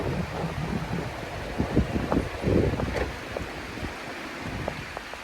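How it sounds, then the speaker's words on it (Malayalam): Rain pours down on a deep-forest riverbank, a broad, steady wash of water mixed with gusty rushes and scattered nearby patters and knocks. "മഴ നന്നായിട്ട് പെയ്തു തുടങ്ങിയേ"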